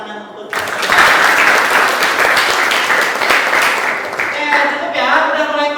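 A classroom of students bursts into applause, a loud, dense burst of clapping that starts abruptly and carries on steadily to the end, with voices mixed in underneath.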